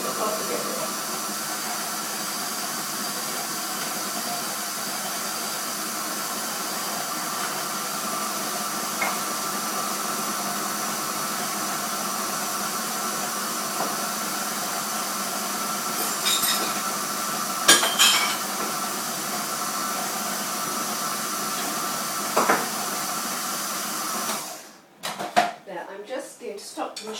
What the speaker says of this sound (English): hold on while I just blend all my mixture together